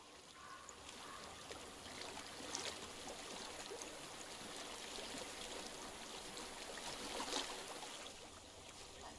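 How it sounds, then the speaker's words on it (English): Steady flowing stream water in the game Hellblade: Senua's Sacrifice, a continuous broadband rush and trickle heard alone at moderate level, with faint wind-like texture and brief brighter splashes. "I hear water. Go to it."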